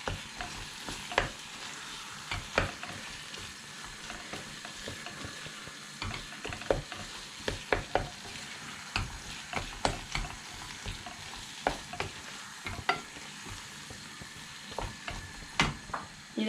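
Dried fish thokku being stirred and fried in a pan, with a spoon scraping and clicking in irregular taps over a steady soft sizzle, close and fairly quiet, no voices.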